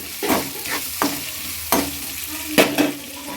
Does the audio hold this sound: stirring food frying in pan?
yes